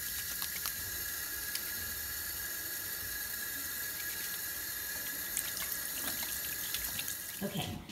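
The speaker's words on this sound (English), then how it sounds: "the first thing you're gonna do is wash your hands" Hands being washed under a running kitchen tap before making applesauce, a steady close hiss of water splashing into a sink throughout, with a brief clatter near the end.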